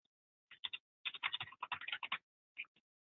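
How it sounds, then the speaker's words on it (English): Fingers tap rapidly on a computer keyboard, close and clean against silence, in quick bursts of keystrokes with short pauses between them. "I will just put some typing here so you can"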